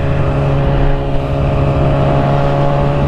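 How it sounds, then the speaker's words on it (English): A loud motorcycle engine drones steadily at close range while the bike is ridden, a constant throbbing rumble with no pauses and no talking. "I didn't really realize how like fucking loud this fucking bike is"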